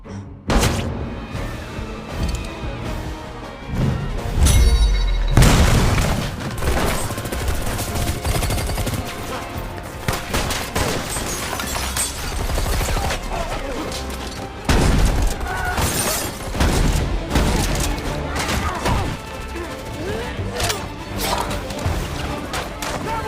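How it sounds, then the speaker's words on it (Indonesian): Heavy gunfire and chaos in an action film scene as a woman is shot and a fight breaks out, with loud continuous shots, crashes and thuds that build into a dense, sustained barrage. "Gredov yang sadar kalau orang yang berkhianat padanya adalah Elizabeth langsung menembak wanita itu hingga terjadilah kekacauan di situ"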